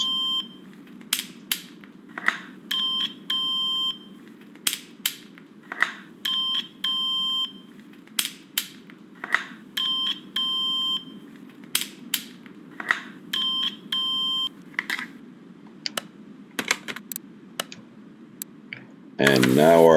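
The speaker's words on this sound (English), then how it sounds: "to our electronic multimeter, which is going to test all the electronics." An electronic multimeter in the Car Mechanic Simulator 2021 video game gives repeated short electronic beeps in irregular bursts, some doubled. A low murmur of talk runs underneath throughout.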